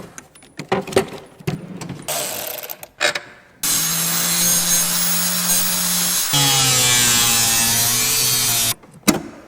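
Power cutting tool slicing a large hole through the plastic dashboard of a Jeep Grand Cherokee, two sustained loud whining cuts with shifting pitch, preceded and followed by clattering handling noises and bumps.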